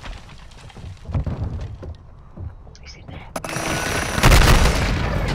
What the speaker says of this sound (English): He fucking blew himself up